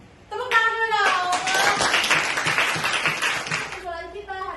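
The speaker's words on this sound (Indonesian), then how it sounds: "Tepuk tangan dulu dong" Classroom of high school students clapping hands together in a burst of applause lasting a few seconds, dense and steady, with a teacher's voice talking before and after.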